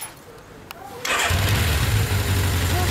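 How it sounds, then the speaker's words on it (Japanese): A 1982 Suzuki GSX750S Katana motorcycle engine cranks and catches about a second in, then settles into a steady, loud rumbling idle close by. "エンジン音聞かせてもらえますか"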